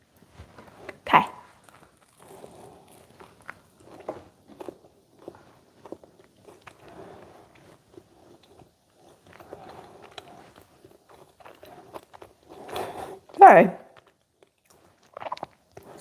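Bites into a high-protein air fryer bagel land as two sharp, close crunches, separated by quiet, soft chewing, with a brief spoken word.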